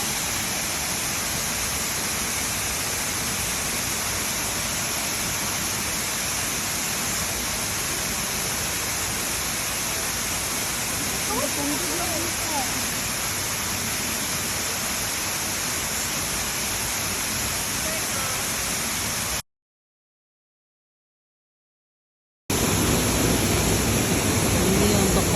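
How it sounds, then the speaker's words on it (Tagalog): Sabang Falls, a waterfall in Marilog, gives off a dense, continuous roar of rushing water that stays steady and loud, with a brief gap of silence near the end. "Sabang Falls."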